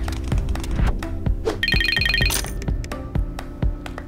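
A mobile phone SMS notification chimes briefly with a bright, rapid electronic trill, heard fairly loud over a steady, busy background of thuds and ambient noise.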